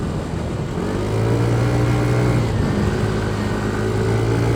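A KYMCO RTS R165 scooter accelerates uphill on a mountain road, its engine drone rising steadily in pitch over about four seconds, loud and close with wind rush, no talking.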